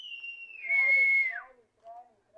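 A single clear whistle from a rooftop pigeon-flying setting, a long steady tone that holds, rises slightly and then falls away, with brief voice-like sounds afterward.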